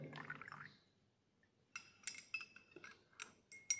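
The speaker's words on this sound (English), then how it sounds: "I am adding 10 ml of this in the next beaker." In a school chemistry lab, 10 ml of liquid is poured into a glass beaker and stirred: a soft pour first, then a quiet pause, then a run of bright glassy clinks and taps as the mix is stirred.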